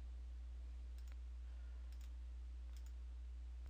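A computer mouse clicks three times at an even pace while a button is pressed in accounting software, each click soft and dry over a low steady hum.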